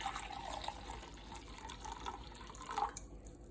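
Apple cider vinegar pours into a container for pickles as a soft, steady liquid stream with faint trickling and gurgling, low and close, ending shortly before the clip does.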